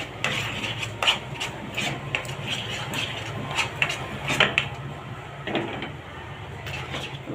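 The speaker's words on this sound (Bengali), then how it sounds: "আমি ঘি দিয়ে দিচ্ছি, এখন ভালো করে লাড়তে হবে।" A utensil scrapes and knocks in a pan as a raw banana sweet mixture is stirred with ghee, irregular rubbing strokes with occasional clinks, close by.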